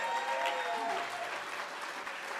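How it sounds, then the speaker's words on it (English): A neighborhood summit audience in Grand Rapids breaks into steady, dense applause, many hands blending into an even wash of clapping that holds at a moderate level throughout, with no voices above it. "That deserves an applause right there."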